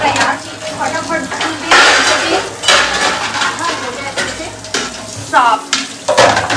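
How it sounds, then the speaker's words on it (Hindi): Dishes, pots and utensils are washed quickly by hand, giving a steady run of clattering clinks, scrapes and metallic knocks close by. "यहाँ पे जल्दी अपने बर्तन धुल रहे हैं यार, फटाफट"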